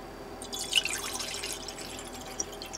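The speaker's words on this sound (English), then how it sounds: "let's pour us up another 150 milliliters" Liquid is poured into a vessel during silver refining by sodium formate reduction, giving a soft, continuous trickling splash with a few faint drips and no talking.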